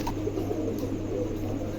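A pair of pigeons coo softly nearby, low rolling calls repeating over a steady background hum, with no one talking.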